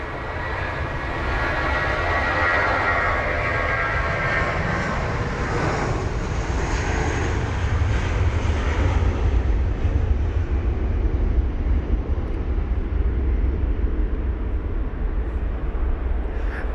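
An Airbus A320-200 jet departs London Heathrow in wet, spraying conditions, its engines a loud, sustained roar that stays close and steady before thinning slightly toward the end.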